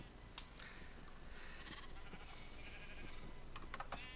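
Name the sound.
sheep bleating, from a video game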